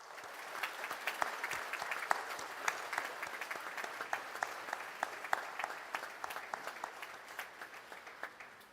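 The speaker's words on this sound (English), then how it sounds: "let's give one more big round of applause to the President" A standing audience at the African Development Bank's 60th anniversary heads of state meeting gives a long, sustained round of applause, dense clapping with sharp individual claps poking through, steady throughout.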